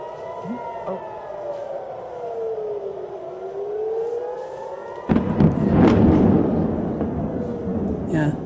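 An air raid siren wails with a rising and falling tone during missile strikes on Tel Aviv, then a loud, rumbling blast cuts in midway and lingers under the continuing siren and background voices.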